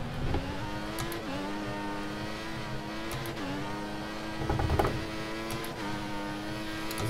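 An F1 car in F1 2014 screams close up, engine pitch sweeping up through the gears with crisp shift breaks and a brief rough patch midway.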